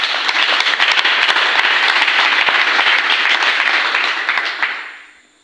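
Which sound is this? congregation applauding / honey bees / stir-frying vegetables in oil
congregation applauding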